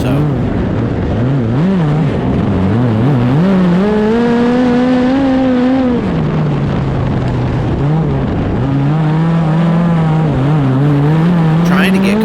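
Race car engine at full throttle in a New Zealand heat race, loud and close, with pitch rising and falling through throttle lifts and gear changes, under a continuous roar of other cars.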